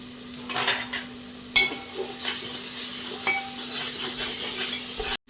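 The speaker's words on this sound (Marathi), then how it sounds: "आपण पेस्ट टाकलेली छान अशी परतलेली आहे" A paste of ginger, garlic, coriander, mint and coconut frying with browned onions in a pan, for a mutton rice dish, gives a constant sizzle with spoon clinks and one sharp knock partway through.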